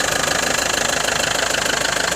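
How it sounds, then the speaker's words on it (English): A Fiat Ducato 2.8 JTD diesel engine in a 2005 Trigano Challenger 173 coachbuilt motorhome idles steadily, with a loud, even rhythmic diesel clatter throughout and no talking. "I'll leave the engine running for you."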